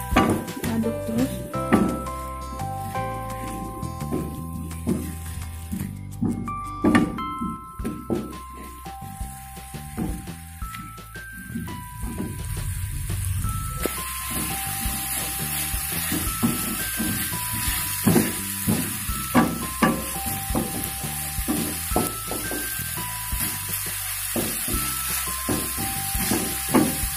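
Ground spice paste for Javanese tempe bacem frying and being stirred in a pan, a steady sizzle with scattered scrapes and clinks of a utensil, the hiss rising and brightening halfway through, with some voice in the background.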